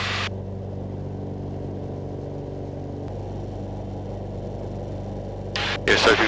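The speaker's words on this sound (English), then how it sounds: "now with that engine noise." A light aircraft engine drones steadily inside the cockpit during pilot training, a loud constant hum with low tonal harmonics and a slight change in pitch partway through.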